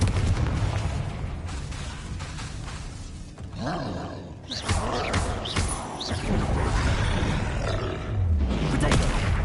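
Repeated explosive spell blasts and roaring booms in Hogwarts Legacy combat, a dense, continuous barrage of bangs and whooshes with brief lulls, loud throughout.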